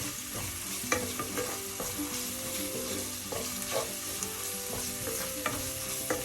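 A white tuna curry mixture is stirred in a hot pan, giving a steady sizzle of frying broken by soft scraping and clinking spoon strokes, close and without talk.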